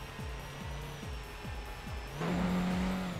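A 3.6 twin turbo car engine in the racing game Street Legal Racing: Redline drones in a repeating rising pattern like quick revs or gear changes, then settles into a steadier, fuller tone with a turbo whine.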